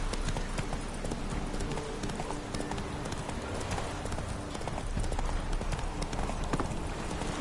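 Roach, a horse in The Witcher 3 video game, gallops with a steady, rapid clip-clop of hooves that stays close and loud throughout, layered over a dense wash of wind and background game ambience.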